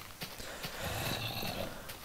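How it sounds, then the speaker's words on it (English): A zombie groans in the video game Minecraft, low rasping vocal grunts drifting over a dense, noisy outdoor ambience with no talking. "Sounds like a zombie."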